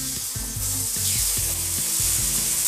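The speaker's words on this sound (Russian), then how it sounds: "Мой гриль горячий, давайте курочку пожарим." Chicken breast sizzles on a hot grill with a steady crackling hiss, while a low rhythmic scraping or tapping repeats underneath, close up and continuous.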